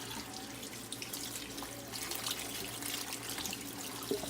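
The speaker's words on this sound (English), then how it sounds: "Now we're going to rinse it out with some more cold water." Cold tap water runs steadily over tie-dyed fabric being rinsed in a sink, a continuous close splashing rush with small drips and no talking.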